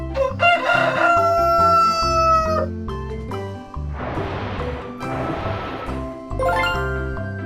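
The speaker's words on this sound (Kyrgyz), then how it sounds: "Короз." A cartoon rooster crows cock-a-doodle-doo in two long, loud calls over a cheerful children's tune with jingling bells.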